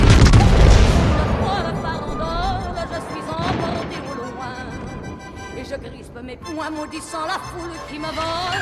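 Naval gun volleys from the battleship Bourgogne in a warship combat game: a heavy, loud boom opens, then rumbling blasts fade under a steady tonal game soundtrack.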